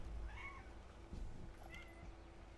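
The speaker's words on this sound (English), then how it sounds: "There's a cat that's just being very loud." A cat meowing repeatedly in a game scene, two drawn-out meows separated by a pause, faint and set against a low background hum and ambient sound.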